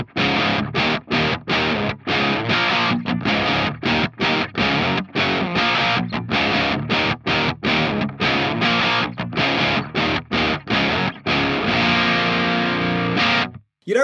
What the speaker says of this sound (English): We'll start out with a nice subtle drive sound with the drive turned down low, the level up high